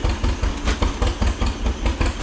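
An auction tractor engine cranking over as it tries to start, with no carburetor fitted, giving a loud, steady rhythmic chugging of repeated low pulses close by.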